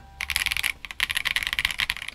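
Fast, steady typing on an Akko PC75B Plus V2 mechanical keyboard with a PC plate and case, giving crisp, close clacks in a dense run broken by one short pause, with no talking.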